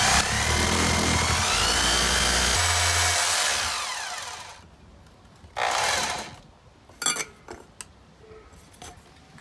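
A power drill bores into a stucco exterior wall, a loud steady whine with motor pitch shifts for about four seconds, then stops, followed by a few short bursts and clatters of handling.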